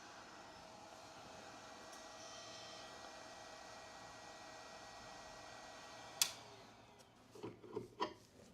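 A hot air rework station with its nozzle fitted blows a steady, faint, even hiss like a small hair dryer. A few soft clicks and knocks come near the end.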